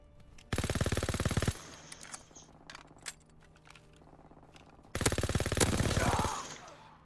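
Video game gunfire: two loud bursts of rapid automatic shots, about a second each, separated by scattered single pops and clicks.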